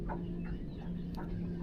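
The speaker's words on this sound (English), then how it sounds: "it's the nature of a bird to make noise" Birds calling beside the Ohio River during a catfishing trip, a few short clucking calls rising over a steady low engine-like hum.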